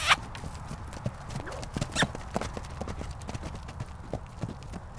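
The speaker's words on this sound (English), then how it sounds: "Canter!" A horse cantering, its hoofbeats sounding as a steady three-beat clip-clop at close range, with faint voices and outdoor noise in the background.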